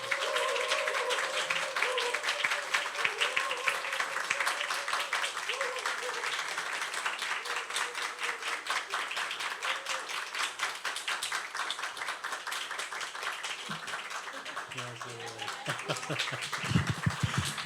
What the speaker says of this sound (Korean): 격려의 인사 또 격려의 박수 보내주시면